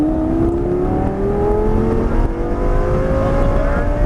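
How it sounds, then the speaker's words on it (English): A Lamborghini accelerates at full throttle out of a corner on an airport circuit, its engine note climbing steadily in pitch, loud and close over road and wind roar. "Full throttle coming out."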